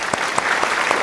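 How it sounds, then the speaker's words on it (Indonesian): An audience gives a brief round of applause for an event's organizing committee, with a few distinct claps standing out over a steady patter of clapping. "Tepuk tangan dong untuk panitianya."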